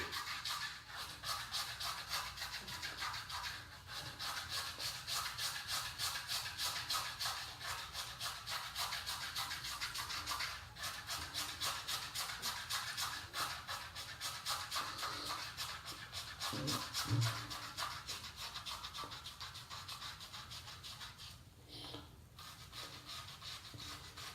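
A razor shaves three days of stubble from a head, a faint, close, continuous scratchy rasp in rhythmic strokes with brief pauses, with no voices.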